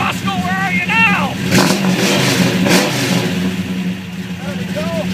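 General Lee car, detuned and running around 1,000 horsepower, fires up and revs loudly and close, its engine roaring in surges over several seconds while a person talks over it.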